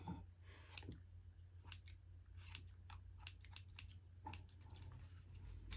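Scissors snip through hair as a woman cuts her own short pixie style, producing quiet, close, crisp clips in uneven bursts over a faint background hum.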